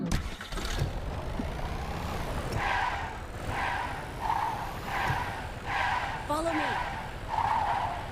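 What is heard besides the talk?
vehicle driving and skidding in a video game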